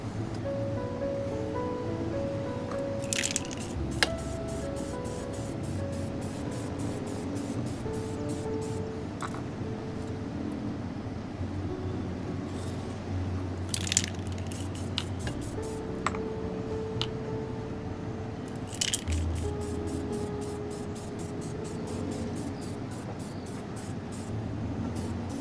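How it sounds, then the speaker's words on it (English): A spray can or airbrush coats miniature siege weapons with gloss brown paint inside a spray booth: a steady, close airy hiss from the booth runs throughout, broken by short, sharp spray bursts at irregular intervals. "getting us out into the spray booth and hitting it with our first coat"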